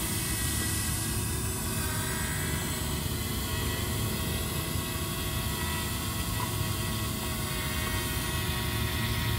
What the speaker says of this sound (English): We'll turn the drone.